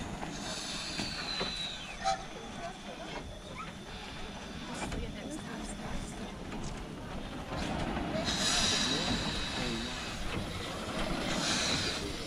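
A wood-fired narrow-gauge train runs with a steady rolling rumble, wheel clatter and occasional squeals, swelling louder near the end, while a voice talks over it.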